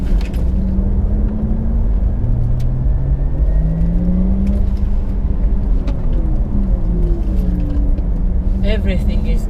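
A Porsche Taycan electric car driving fast on the Nürburgring, with a loud steady whir and rising and falling motor tones under constant road and wind rumble, speeding up and easing off through corners.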